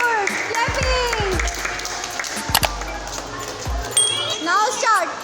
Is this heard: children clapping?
yes